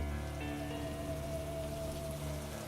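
A rain shower pours down steadily over a quiet village street in a radio drama, a continuous hiss of drops spattering on leaves and pavement, with a low tonal hum underneath and no voices.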